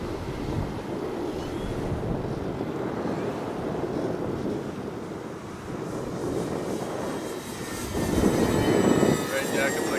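An Avios Albatross RC model seaplane flying low over water, its electric motor a steady buzzing drone mixed with wind rush and water noise, growing slightly louder near the end.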